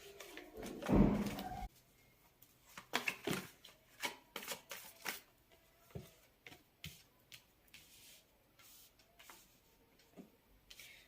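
Tarot cards are shuffled by hand, starting with a loud riffling burst and then a run of separate sharp flicks and taps at an uneven pace, close and clear with no voices.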